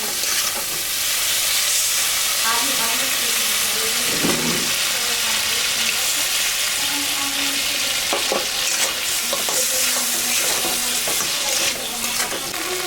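Ginger, cumin and dried chilli paste with turmeric frying in a pan, a steady close sizzle and hiss with intermittent stirring clatters and scrapes, continuous and fairly loud with no talking.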